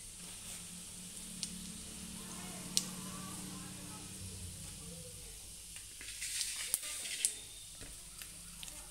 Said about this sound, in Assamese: মই ইয়াত গোটা জিৰা দুটামান দিছোঁ